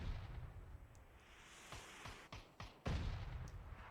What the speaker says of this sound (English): Mortars coming out.